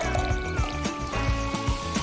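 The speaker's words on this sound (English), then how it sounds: "and run some water." Water trickles from a small toy spigot into a bowl in a doll-house craft setup, a close, steady stream with soft dribbling and repeated bubbly drips.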